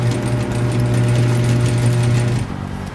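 A sewing machine stitching a wedding gown runs with a steady, close mechanical hum and rapid needle chatter for a few seconds, then slows and stops.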